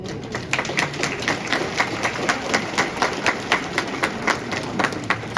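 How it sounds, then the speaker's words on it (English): An audience at a Fresno commemoration ceremony for guerrilla veterans claps in a steady, evenly spaced rhythm, each beat distinct and moderately loud, with no talking over it. "So I give my applause to the late General Vang Pao."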